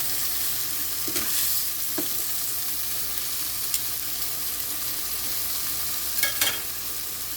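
Chicken thighs sizzle and fry steadily on a Power smokeless grill, a close, continuous crackling hiss broken by a few brief scraping taps from handling the meat, with no talking.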